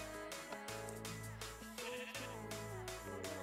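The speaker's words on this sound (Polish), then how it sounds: "Wielka kolorowa owca." Repeated wavering sheep bleats from a video game character, a big colourful sheep, sounding loud and close over continuous game music and effects.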